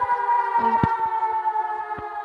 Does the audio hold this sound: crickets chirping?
no